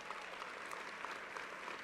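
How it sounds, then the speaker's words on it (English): An audience at a University Day ceremony claps in a steady round of applause, even and sustained for the whole short stretch, moderately distant and without talk. "Let's give them all a round of applause."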